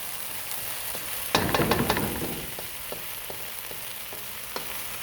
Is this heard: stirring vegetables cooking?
yes